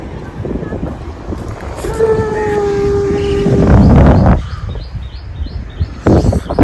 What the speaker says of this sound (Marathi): बीचवर वारा सुटलेला आहे मस्त